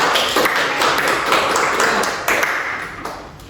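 Classroom applause for a student group in a micro-teaching lesson, a short burst of many hands clapping close by, bright and fairly loud, tapering off over a few seconds.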